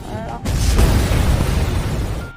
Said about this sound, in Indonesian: tidak menyadari ada gas bocor sehingga ledakan pun terjadi